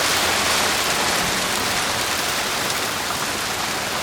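Rain falling steadily over a rice paddy, a dense unbroken hiss of drops that stays loud and even throughout with no voices.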